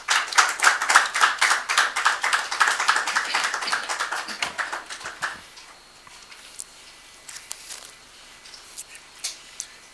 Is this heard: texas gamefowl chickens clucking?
no